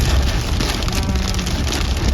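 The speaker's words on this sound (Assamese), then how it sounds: "কেনেকুৱা বৰষুণ দিছে নহয় চাওকচোন" Heavy rain pours down in a dense, steady hiss, drumming loudly and continuously on a hard surface close by.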